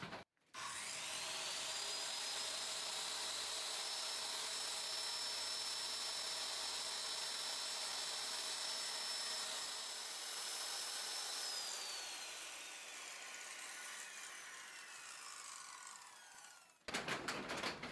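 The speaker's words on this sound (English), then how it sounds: "I'm going to test the saw out on this scrap piece of plywood here" A circular saw running on a Kreg Accu-Cut track cuts through a scrap piece of plywood, giving a loud, steady high whine for about fifteen seconds that dips slightly under load before spinning down.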